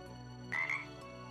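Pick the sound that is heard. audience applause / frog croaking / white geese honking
frog croaking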